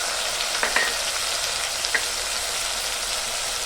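Fish is sautéed with ground spices, tomato, ginger and green chilli in a pan, giving a loud, continuous close-up frying hiss with a few scraping stirs and no talking.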